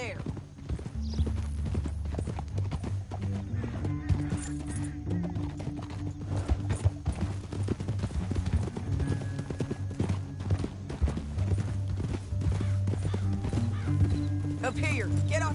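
Horse hooves clip-clop steadily through a canyon in Red Dead Redemption 2, a brisk continuous rhythm of close, crisp hoofbeats that runs throughout at moderate loudness.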